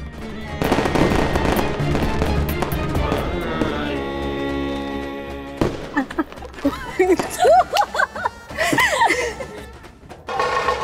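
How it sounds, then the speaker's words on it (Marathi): A loud rattling burst of firecrackers crackles for several seconds, then fades into a crowd cheering and shouting. "मागे फटाके वाजणार."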